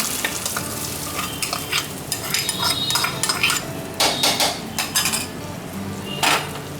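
Fish curry being stirred in a frying pan: brisk scraping and clinks of a utensil over a soft sizzle, in quick uneven strokes, loudest bursts toward the end, with no speech.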